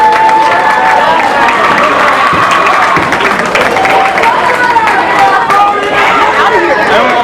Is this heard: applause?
yes